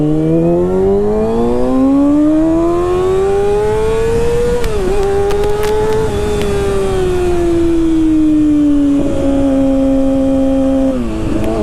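A Kawasaki Ninja sport bike accelerates hard, its engine note climbing steadily through the gears with brief dips at each shift, loud and close throughout with no talk.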